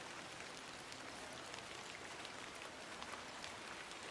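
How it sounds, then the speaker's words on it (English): Steady rain patters evenly and softly in The Excavation of Hob's Barrow, an unbroken hiss of drops that stays quiet throughout. "I'm glad the rain doesn't put you off."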